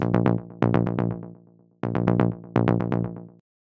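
Synth bass line in a rolling Afterlife techno style, recreating a track: repeated plucky bass notes in fast rhythmic bursts with decaying tails, two phrases separated by a short gap, alone and up front.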